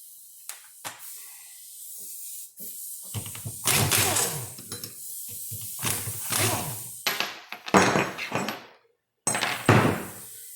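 A 14 mm wrench works a bolt loose from a power steering bracket, giving irregular bursts of metallic scraping, clanks and ratcheting knocks separated by short pauses.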